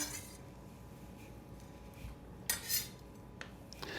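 A utensil stirs and scrapes through a raw burger mixture as chopped jalapeno is worked in, giving soft scraping with a few louder clinks against the bowl near the end, close and unaccompanied by voices.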